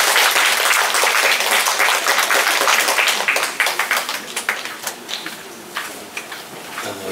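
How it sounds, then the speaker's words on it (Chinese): An audience applauds to welcome lawyer Liu Beiyuan at a Wednesday lecture. The clapping is dense and loud at first, then thins into scattered individual claps that fade toward the end. "所以现在我们就用最热烈的掌声来欢迎我们最喜爱的"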